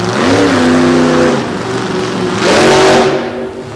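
A competition truck engine revs hard and close during a run, a loud roaring rise that dips briefly and then climbs again.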